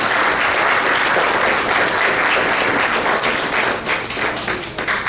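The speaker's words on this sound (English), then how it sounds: "So can we give them a big round of applause for that?" An audience at a community iftar gathering gives a loud, sustained round of applause, a thick wash of many hands clapping up close that holds steady before starting to thin out near the end.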